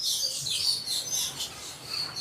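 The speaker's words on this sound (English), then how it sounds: "Birds are quite active today." Small birds in a jungle-style animal enclosure keep up a steady run of high, close chirps and tweets, with no voices over them.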